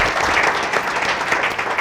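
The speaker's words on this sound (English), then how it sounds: "I don't know if you want to give him a round of applause" An audience at a housing policy event applauds. The clapping is dense, steady and continuous, and no voices come through above it.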